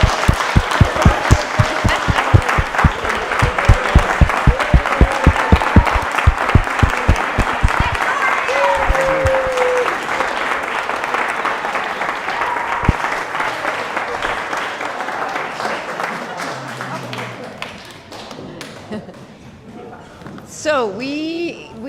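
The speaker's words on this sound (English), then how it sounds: "can we give him a huge round of applause?" Audience at a school presentation event claps in a sustained round of applause. It is loud and dense at first, then thins and fades toward the end, where a little voice is heard.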